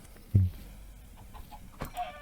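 Clucking from chickens in a video game, one short clear cluck near the start followed by a few faint, scattered game sounds.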